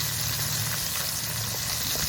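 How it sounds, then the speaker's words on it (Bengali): Tangra fish frying in a pan, a steady close sizzle of hot oil spread across the whole moment with no voices, with a low background hum underneath. "এই ট্যাংরা মাছ ভাজা খুব সহজ, কড়াইতে লাগে না, সেই কই মাছের মতো নাড়াচাড়া দিয়ে ভাজা যায়।"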